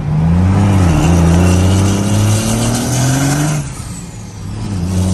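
A 12V Cummins diesel buggy engine making around 900 horsepower revs hard and loudly nearby, its pitch rising through a long pull before dropping off and picking up again.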